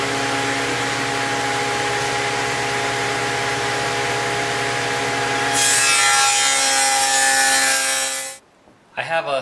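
Radial arm saw cutting a rabbet along the edge of a half-inch wood panel: a loud continuous motor whine with a harsher cutting rasp joining partway through, then the blade winds down to quiet with a few closing clunks.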